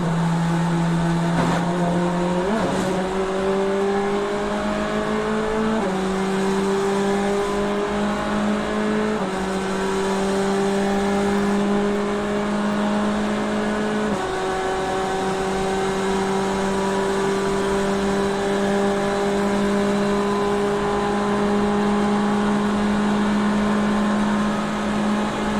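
A Corvette race car at the Rolex 24 at Daytona holds a steady, loud engine drone throughout, its pitch stepping up through several gear changes as it accelerates, with no voices over it.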